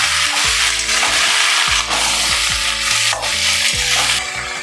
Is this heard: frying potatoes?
yes